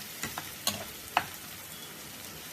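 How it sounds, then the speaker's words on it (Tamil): Tomatoes sauté in a pan for egg Maggi: a soft, low sizzle with three or four quick stirring scrapes near the start, fairly quiet and without voices. "பாருங்க தக்காளி நல்லா வதங்கிடுது"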